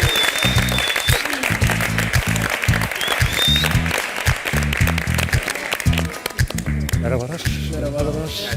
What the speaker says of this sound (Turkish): Çok büyük alkışlarınızla çok büyük saygılarınızla Japonya İstanbul Başkonsolosu Kenichi Kasaha